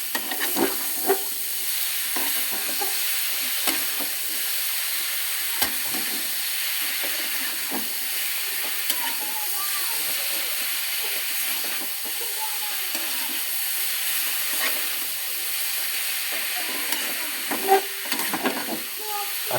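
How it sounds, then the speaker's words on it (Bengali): Bottle gourd leaves being stir-fried in a hot pan, giving a steady bright sizzle and hiss with scattered scraping stirs and soft clinks throughout, close and continuous. "লাউ শাকগুলো দিয়ে খুব সুন্দর করে নাড়তে হবে।"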